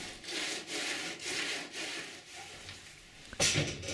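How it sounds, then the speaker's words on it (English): Rhythmic rasping strokes of hand sanding on the wooden deck of a homemade kayak, close and fairly quiet, with a sharper scrape near the end. "I have a go with some manual sanding as well."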